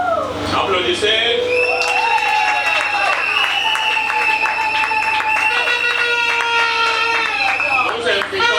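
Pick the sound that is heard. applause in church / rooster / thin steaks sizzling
applause in church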